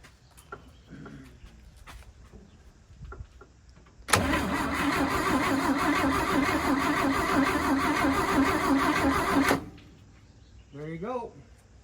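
A 1956 Chevy 210 that sat for 25 years cranks over on its starter, a loud steady churning roughly five seconds long without firing, with brief talk and small clunks before and after.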